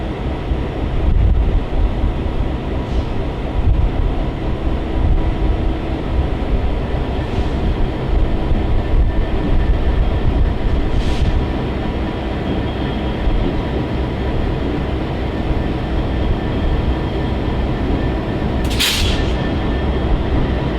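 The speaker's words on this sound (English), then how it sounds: "we watched as the train slowly crept by the yard office in" Amtrak train on the Michigan line creeping slowly past the yard office at Jackson Yard at night in sub-zero cold, a steady low rumble with faint wheel squeals and brief high screeches near the end.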